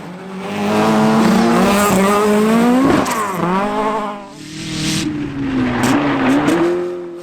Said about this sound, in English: the part stock Mark II Escort spun in front of him